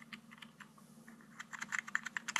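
Keys clicking on a DBPOWER DB A8 mechanical-feel keyboard, a run of close, crisp taps that start sparse and grow quicker and louder toward the end, with no voices.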